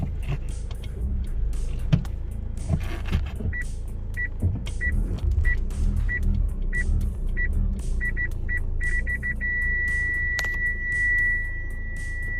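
A Honda Accord reverses with its parking sensors beeping: evenly spaced short beeps that quicken, then merge into one continuous tone, over a low car rumble inside the cabin with no talk.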